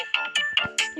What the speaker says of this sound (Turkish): bu telefon benim olabilir.